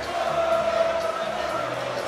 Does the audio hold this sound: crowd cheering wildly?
yes